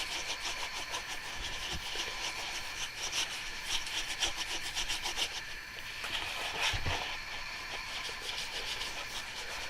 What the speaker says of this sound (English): small talcum powder, and you just start working it in and buffing it in.